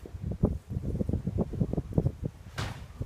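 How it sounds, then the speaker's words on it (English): Chilly wind buffets a microphone on the back porch of a house, giving a steady low rumble with gusty surges, without speech. "It's very windy today, chilly."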